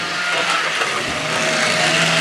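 A fan-powered Battle Space turbo toy car from Hornby Triang is pushed along by its fan rather than driven through the wheels, giving a steady, loud, whirring buzz that holds without a break for the whole stretch.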